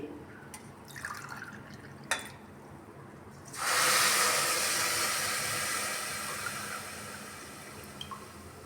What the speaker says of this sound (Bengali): এই যে কাপ মেপে জল আমি দিয়ে দিচ্ছি